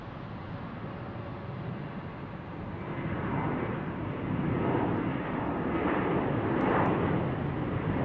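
A Boeing 737-800 jet departs Salt Lake City airport bound for DFW, its engine roar a broad steady rumble that swells louder and fuller partway through and holds near, with no voices.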